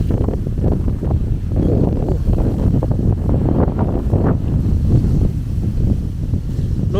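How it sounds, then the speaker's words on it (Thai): A strong wind blows in off a reservoir at a lakeside campsite, making a constant loud, rumbling buffet as it batters the microphone for several seconds, with brief gusty surges. "ลมมันแรงจริง"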